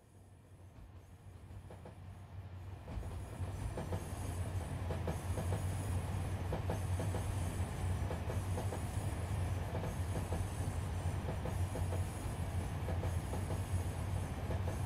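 An express train in the SimRail railway simulator passes, its rumble swelling after a few seconds into a steady, loud roar with rhythmic wheel clatter and faint high squeal that carries on to the end, no talk.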